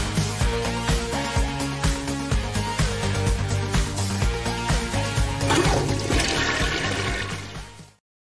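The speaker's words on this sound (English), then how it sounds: "I thought we got rid of the flush sound." A toilet flush sound effect plays loud and close for about eight seconds, a continuous rushing gurgle of water that swells near the end before cutting off abruptly.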